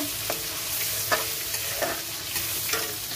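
Onions and tomato frying in a pan, a steady close sizzle with a few soft scraping stirs at roughly even intervals, no voices over it.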